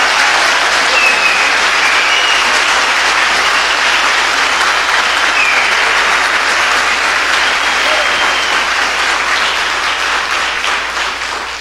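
Sustained applause from a church congregation, loud and dense throughout, with a few scattered voices mixed into the steady clapping.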